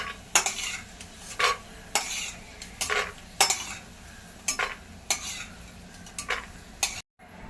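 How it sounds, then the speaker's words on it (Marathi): Freshly fried food being lifted out of the pan into a dish, a series of sharp metallic scrapes and clinks of a utensil over a faint sizzle, close, ending in a brief cut to silence. "तळून झालेत बघा हे आपण आता काढून घेऊया डिश मध्ये"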